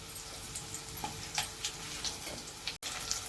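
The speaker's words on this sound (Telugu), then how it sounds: "నేను ఇప్పుడు బచ్చల కూర ఫ్రై చేస్తున్నాను" Garlic, chana dal and mustard seeds frying in oil in a pan for bachali kura (spinach) fry: a soft, close sizzle with a few light spatula scrapes over a short stretch.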